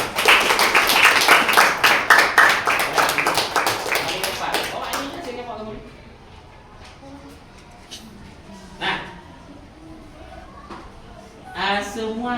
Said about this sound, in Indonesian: Tepuk tangan untuk kelompoknya semua.